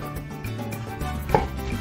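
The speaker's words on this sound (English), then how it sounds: "I'm just going to take this knife and I'll cut down here" A knife cuts down through a pineapple, with a soft crunch and one sharper crack about two thirds of the way through, close up and with no one talking.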